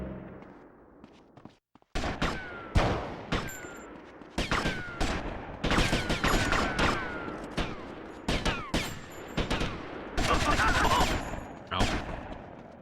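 Gunfire in a Grand Theft Auto game on PS2, dense bursts of rapid shots and fusillades cracking almost continuously after a brief quiet start, loud and close, with occasional thuds mixed in.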